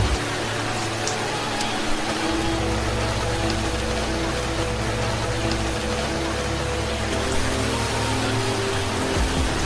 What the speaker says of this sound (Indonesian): Pagi-pagi hujan deras